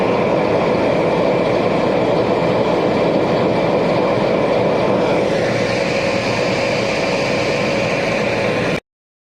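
A loud, steady roar of the Somnath Express passing at night fills the whole stretch, a continuous heavy rumble with a faint tonal whine, cutting off abruptly at the end.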